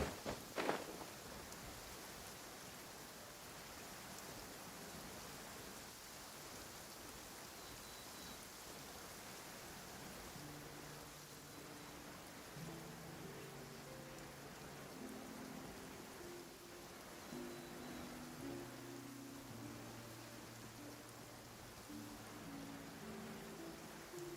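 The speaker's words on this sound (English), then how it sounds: "This heavy rain must be quite an inconvenience for you." Heavy rain falls steadily in Genshin Impact, a soft constant wash of drops with gentle musical tones drifting over it partway through.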